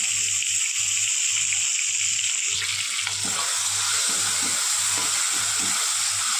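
Ginger garlic paste fries with tomato and potato in a pan, a steady close sizzle with an added burst of hissing midway, under a faint regular low hum.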